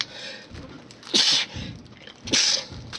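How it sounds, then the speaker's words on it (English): Two sharp sneezes about a second apart, close and loud, with faint breathing between them. "it was an unexpected sneeze"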